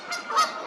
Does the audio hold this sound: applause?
no